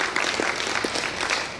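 Audience applause at an international conference on elderly care cooperation, a soft, steady patter of clapping that carries on evenly without letting up.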